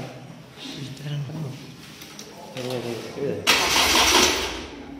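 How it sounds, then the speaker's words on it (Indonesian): A Toyota Kijang 4K engine is cranked with the starter during a tune-up and catches near the end, loud and close, after someone talks over the quieter earlier part. "Setelah itu baru di starter."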